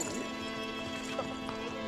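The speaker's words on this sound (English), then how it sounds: "let me get this horse through the gate, man" Horse hooves clop at a steady pace as the horse is led through a gate, a close rhythmic beat under a constant droning hum.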